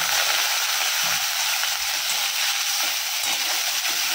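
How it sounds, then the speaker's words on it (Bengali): Potatoes frying in a pan, a steady, loud broadband sizzle that stays even and continuous throughout, with no voices over it. "আলুটা ভাজবো"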